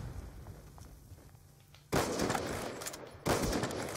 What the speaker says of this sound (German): Ich werde einfach mal wie mit allen Waffen drauf losschießen